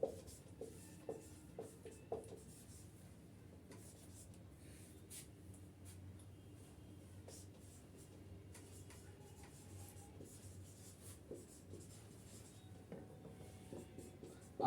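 Marker or chalk writing on a board during a class lesson, faint scratchy strokes in short bursts near the start, then quieter continuous scribbling in a quiet room.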